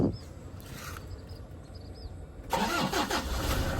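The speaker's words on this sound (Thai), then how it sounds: "รถสตาร์ทติดง่ายครับ เสียงเครื่องดีครับ" A 2006 Toyota Hilux Vigo 2.5 G pickup engine cranks and fires up outdoors, a whirring start followed by a louder steady running engine, close and clear with no talking over it.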